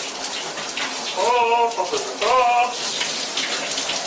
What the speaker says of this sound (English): Working up a lather in the shower.